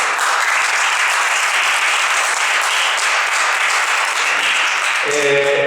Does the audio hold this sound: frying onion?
no